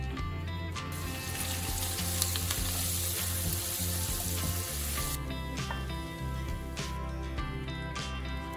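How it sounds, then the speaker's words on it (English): Paneer cubes and onions shallow frying in vegetable oil, a steady crackling sizzle that swells louder for several seconds then settles back to a quieter fizz, heard close with no talk. "The next step is to shallow fry the paneer cubes and the onions in vegetable oil for about 5 to 10 minutes."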